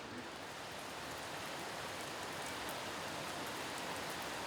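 Steady rain falling on a mountain morning, a dense even hiss of drops without pause, loud and constant throughout.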